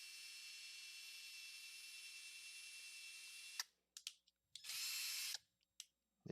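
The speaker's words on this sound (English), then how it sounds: "I'm just going to show an example by drilling" A Hyper Tough 20-volt lithium-ion cordless drill runs a steady high-pitched whine for several seconds while boring a hole, then stops. A few short bursts follow with a final brief spin, all close and fairly quiet.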